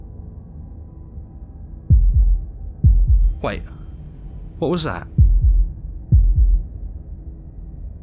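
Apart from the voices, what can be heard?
heartbeat sound effect in the video game Slay the Princess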